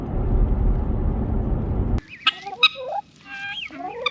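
Backyard chickens clucking and calling in a few short bursts after a loud, dense stretch of broadband noise, the birds close and fairly clear.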